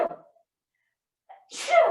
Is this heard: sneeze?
yes